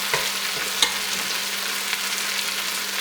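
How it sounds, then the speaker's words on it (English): An egg fries in a very hot pan for pork fried rice, giving a steady, close, crackling sizzle with a few soft taps of a utensil, with no talking. "fry that egg and then get it really hot"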